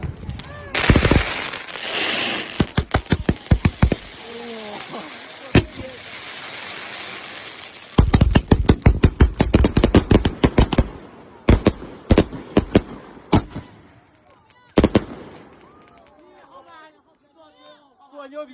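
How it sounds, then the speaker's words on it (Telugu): Rapid bursts of firecrackers crackle and pop in irregular volleys in China, some loud and close, with voices chattering in the pauses between. "టపాకాయలు ఇవి వచ్చేసి నైట్ కాలుస్తారు అనమాట అసలు ఎలా కాలుస్తారో ఒకసారి చిన్న శాంపుల్ అయితే మీకు చూపిస్తాను"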